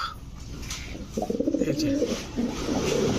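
Large pigeons at a bird sale coo in low, repeated throaty rolls, close and fairly loud, over steady background murmur.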